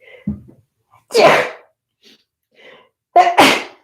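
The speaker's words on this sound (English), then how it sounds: "I'm gonna sneeze." A short sniff and a catch of breath build into one loud, close sneeze, then a quiet pause and a second forceful sneeze.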